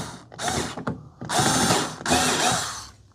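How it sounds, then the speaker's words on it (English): A small power screwdriver whirs in several close bursts, backing out tiny Phillips screws from the back of a Dreame X40 robot vacuum and mop. There is no talking. "Now around back, we're going to take these 2 Phillips screws out."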